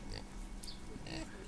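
Pigs oinking and grunting in the pig stables of the Landwirtschafts-Simulator 15 farming game, a few short snorts and squeals over a continuous barn ambience.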